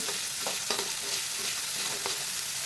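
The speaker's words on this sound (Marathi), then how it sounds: "आता ही पेस्ट छान अशी भाजून घ्यायची आहे" Ginger, garlic and coconut paste roasts in hot oil in a pan, giving a steady, even sizzle with a few quiet stirring clicks and no voices.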